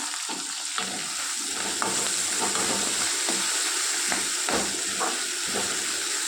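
Tomato pieces frying in a pan with ginger-garlic paste, a loud, steady sizzle and hiss with repeated soft stirring strokes, close and without talk.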